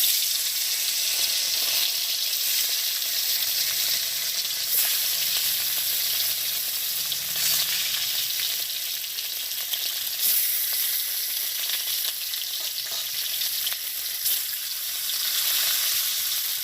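Fish fries in hot oil in a village kitchen, a loud, continuous hissing sizzle that holds steady from start to finish with faint stirring.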